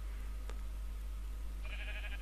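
Sheep bleating in Minecraft, a short harmonic bleat arriving late over a steady low game hum, fairly faint and alone with no talk.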